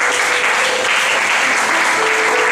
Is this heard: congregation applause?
yes